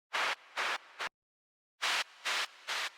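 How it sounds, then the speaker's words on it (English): Filtered white noise from a Serum synth riser plays as five short, loud hiss bursts, three then two after a brief silence, each an even broadband wash. "And it's just white noise with a filter, and the pitch just changes the cutoff over on the right."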